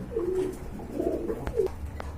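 A pair of blue satinette fancy pigeons cooing close by, with several soft throaty coos in a slow, broken rhythm over low background murmur.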